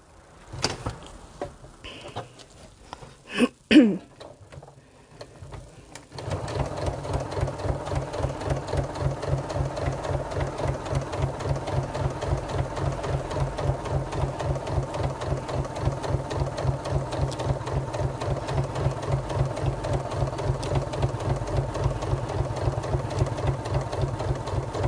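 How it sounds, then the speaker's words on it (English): A sewing machine stitches vinyl binding at stitch length 3, running in a steady, even rapid rhythm for most of the stretch after a few quieter handling noises at the start. "I'm going to stitch at stitch length 3"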